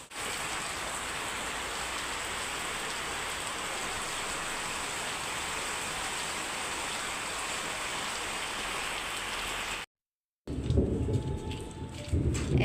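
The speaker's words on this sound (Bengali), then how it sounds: "অনেক ভালো বৃষ্টি হচ্ছে" Heavy rain pours down steadily with a dense, constant hiss, broken by a brief silent gap before a louder, rumbling stretch of rain and thunder near the end; no one speaks.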